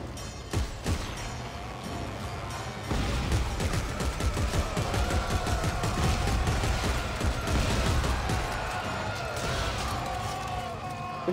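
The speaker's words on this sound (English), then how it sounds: "This shotgun has surprisingly long range." Shotgun blasts in the sci-fi horror video game Dead Space 3, a run of sharp, loud repeated shots and crashing impacts over a noisy, busy game soundscape.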